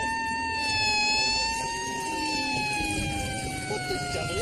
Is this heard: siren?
yes